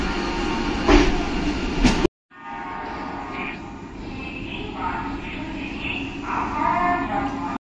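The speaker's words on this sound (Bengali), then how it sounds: "কোনো একটা বন্দে ভারত কার সেটা যাচ্ছে, মোস্ট প্রবলি তো পুরী বন্দে ভারত মোস্ট প্রবলি এটা।" A Vande Bharat train, probably the Puri service, passes near Bhubaneswar. Its steady loud rumble cuts out abruptly, then returns with shifting tones and some background voices.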